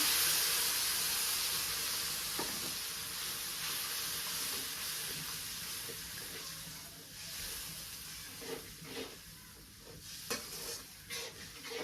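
Salt and chili sizzle in a pan in a village kitchen, a steady soft frying hiss with occasional scraping stirs and clinks growing more frequent toward the end.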